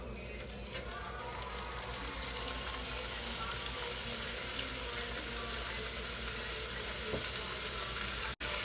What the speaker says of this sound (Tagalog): So, mix natin. Nadurogan natin. Alright, pa-brown muna natin.